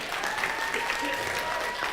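Audience at a 2016 IT conference applauding, a dense steady wash of many hands clapping throughout, fairly even in level with no pauses.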